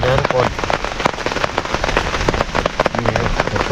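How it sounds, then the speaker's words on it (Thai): Heavy rain pours down in a forest during a storm, a loud, dense and steady roar of drops hitting surfaces close by, with no break. "ฝนตกหนักเลยนะทุกคน"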